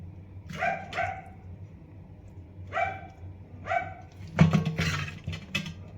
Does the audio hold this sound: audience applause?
no